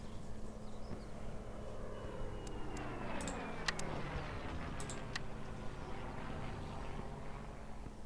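A Messerschmitt 109 engine drones steadily in IL-2 Sturmovik: Great Battles over Moscow, a low continuous hum with faint rising whines and scattered sharp clicks on top, no voices.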